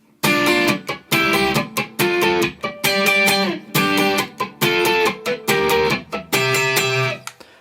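Distorted electric guitar in standard tuning plays the Cyberpunk: Edgerunners opening theme riff, choppy repeated strummed chords in short bursts with brief gaps, loud and close, no talking.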